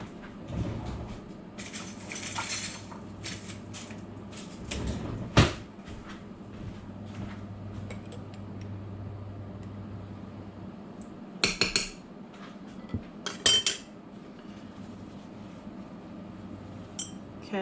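A spoon clinks and taps against a glass canning jar filled with thick sloppy joe sauce, making a few sharp metallic knocks between quieter scraping and handling sounds.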